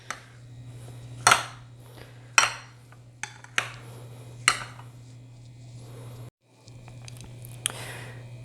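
Cooked potatoes being crushed in a pot, a series of sharp metallic clanks and thuds at irregular gaps over a constant low hum, close to the source.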